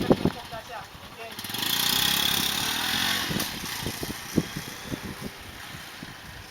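A motorcycle pulls away in first gear, its engine rising in a steady rev, then easing off as it moves away, with voices and rider-club chatter nearby.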